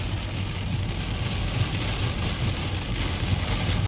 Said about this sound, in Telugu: ఇంత వర్షం పడుతుంది.